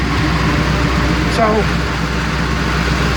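A 1978 Chevy C10 pickup with a 305 V8 idling under the hood, a steady, close, low rumble that continues throughout, with a brief spoken word over it.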